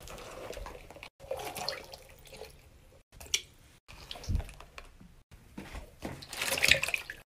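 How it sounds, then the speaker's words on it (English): Stress balls dropped into a bathroom sink already full of water, giving soft splashes, drips and squishy plops in separate bursts, close and fairly quiet, with no talking. "I'm going to go get the stress balls and put them in the water"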